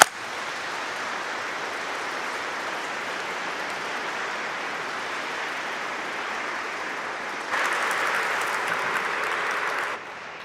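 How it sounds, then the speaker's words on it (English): An audience claps steadily for ten seconds at a book launch event about the organs of York Minster, with the applause swelling louder near the end before stopping; no one speaks. "Can we give him a round of applause?"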